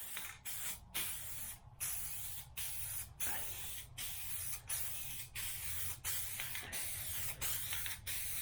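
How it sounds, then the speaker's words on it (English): An aerosol spray paint can hisses in a series of short bursts separated by brief pauses while painting a motorcycle part, close and steady, with no voices. "the can is very heavy to spray"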